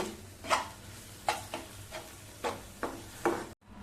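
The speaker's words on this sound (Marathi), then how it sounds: "सगळं चांगलं एकदा परतवून घेऊ" A spoon scrapes and stirs tomato puree and chili sauce in a pan, giving a few separate, fairly quiet strokes over a soft sizzle, alone with no voice.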